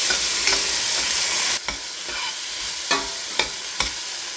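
Onions and tomatoes sizzle in a hot pan while a utensil stirs them, sharp scraping clacks recurring every half second or so over a steady frying hiss, no one speaking.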